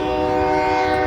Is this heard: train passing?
yes